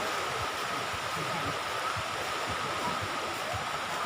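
Steady broadband wash of sea waves breaking on the beach at Koh Chang, Thailand, continuous and fairly loud with no distinct individual crashes, heard alone without talk.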